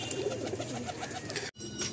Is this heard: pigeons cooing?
yes